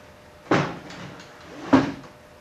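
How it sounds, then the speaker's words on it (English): A heavy Birdseye maple highboy chest drawer with dovetailed construction slides and bumps shut twice, two distinct wooden knocks about a second apart, close and clear with no talk. "when you push it in, because of the shape, that you get that shape very easily by pushing it in"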